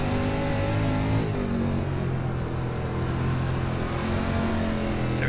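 A dirt late model race car in an iRacing race at Lanier drones steadily on a light throttle, its engine tone holding a continuous, even hum with slight pitch swells across the whole stretch.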